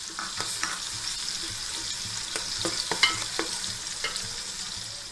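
A spoon stirs spice paste into coconut milk rice in a pan, making soft scraping strokes and light clicks over a low steady sizzle, close and moderately quiet.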